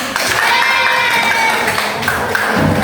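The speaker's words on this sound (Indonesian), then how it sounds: "Tepuk tangan" Students in a classroom clap for a classmate about to present, a loud, busy burst of applause mixed with children's raised voices and cheering close by.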